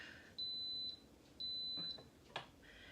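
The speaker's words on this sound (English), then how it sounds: "those 3 beeps mean that it is now ready to start building its pressure" An Instant Pot signals it is ready to start building pressure with long, high electronic beeps. They are quiet, evenly spaced and stand alone against a faint room background.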